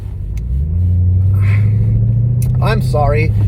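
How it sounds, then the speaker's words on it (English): A Mercedes E55 AMG sends out a low, steady exhaust rumble with an occasional rough burble from the tailpipes, loud and close, while someone talks over it. "once every 4 or 5 months, it does this, like, fart out of the back"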